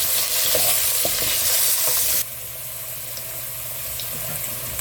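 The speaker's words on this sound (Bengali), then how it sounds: "আলুগুলো প্রায় ভাজা হয়ে এসছে" Potato pieces frying in hot oil keep up a continuous sizzle with a few stirring scrapes, and the sizzle drops noticeably softer partway through.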